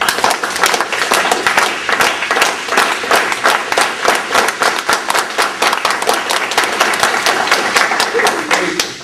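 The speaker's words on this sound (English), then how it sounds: "So let's give them a real applause" Loud, sustained applause and clapping from a convention audience at a national migrant workers gathering, a dense rhythmic patter of many hands lasting throughout.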